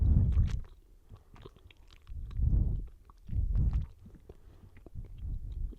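Someone chewing a chewy packaged Ikea snack close to the mic in bursts, with soft wet mouth sounds separated by quiet pauses.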